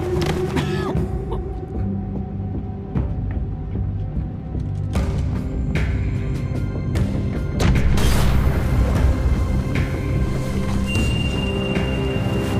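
A bomb blast in The Walking Dead Season 4 game scene: a heavy, sustained rumbling roar that swells louder near the end, with crashing debris over a low, continuous throb.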